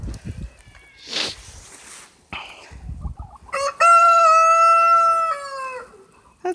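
A few soft clucks and rustles on a farm, then a loud rooster crow rings out close by, long and clear.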